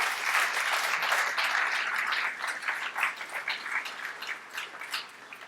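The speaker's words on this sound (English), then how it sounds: "Let's give them a round of applause, please." Dinner audience at an award banquet applauding in a sustained, dense burst of clapping that gradually thins and tapers off toward the end.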